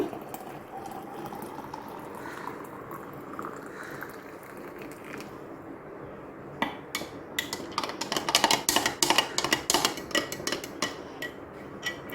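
Hot water pours into a tumbler of homemade Horlicks powder with a rising filling tone, followed by a spoon clinking and tapping rapidly against the tumbler, close and clear, no voices.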